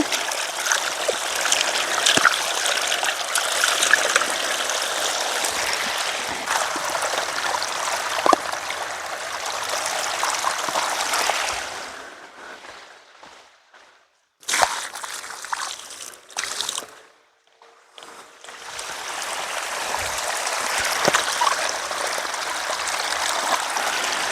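Water runs steadily from a tap, stops briefly with a few clunks and splashes, then flows again at full strength. No voices.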